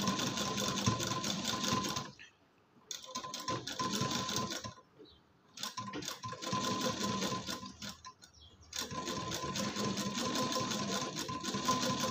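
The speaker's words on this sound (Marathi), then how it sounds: "एकदम दम्माने घ्यायची शिलाई" A sewing machine runs in long, steady stitching bursts with brief pauses while attaching piping to a neckline, heard close and fairly quiet.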